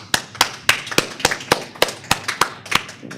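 Slow, evenly spaced claps from an audience at a fibromyalgia health fair, about ten sharp, fairly close hits at a steady rhythm, with no voices over them.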